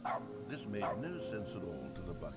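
Repeated playful yips and barks from the dog in The Stanley Parable: Ultra Deluxe, close and moderately loud, mixed under steady narrator speech throughout.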